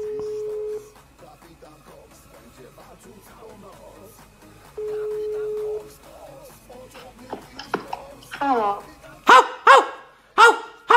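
A man imitates a dog barking into a phone, a few loud rhythmic barks near the end after quiet stretches with two steady tones like a phone signal.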